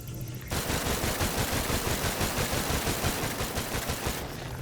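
Rapid automatic gunfire from a weapon in the VR game Stormland, a loud dense burst of continuous shots that fills about four seconds before cutting off abruptly.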